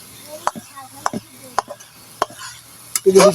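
Dal is stirred in a cooking pot, a spoon scraping and knocking against the pot in four sharp, evenly spaced strokes, followed by a louder burst of clatter and sizzle at the end.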